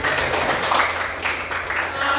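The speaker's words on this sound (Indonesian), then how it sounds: "kasih tepuk tangan dulu" Students in a classroom applaud together during a teacher's lesson, a dense, steady wash of clapping that holds at an even level from start to finish.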